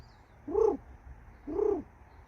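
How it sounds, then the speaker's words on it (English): A crow calling outdoors, heard as two separate caws about a second apart, fairly clear over quiet background. "There's a crow stealing the show right now."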